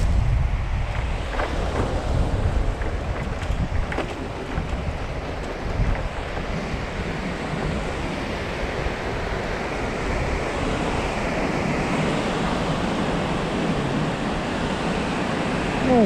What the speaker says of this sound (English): Oh, some nice little waves today to play on.